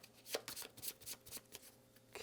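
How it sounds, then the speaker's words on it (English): A scavenge deck of cards for the Brimstone board game being shuffled, a run of quick riffling bursts and soft slaps, close and fairly quiet with no talking. "we'll shuffle up our scavenge deck"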